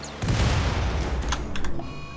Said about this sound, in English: Tiki got annihilated in the explosion